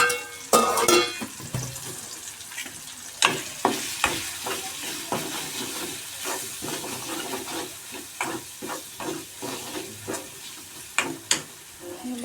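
Cluster beans fry in a pan with onion, garlic and masala, a continuous sizzle broken by repeated sharp spatula scrapes and stirring bursts at an uneven rhythm, close and fairly loud, with no one talking.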